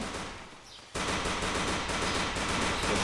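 Dense automatic gunfire rattles in the mobile battle-royale game Free Fire, a loud continuous burst that starts abruptly after a brief quieter moment and keeps going without a break.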